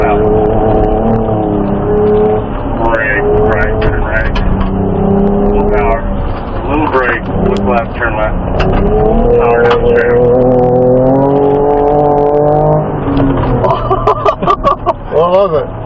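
A Ford Ranger Raptor driving hard off-road, its engine roaring loud and close with rising revs and gear changes while people talk over it throughout.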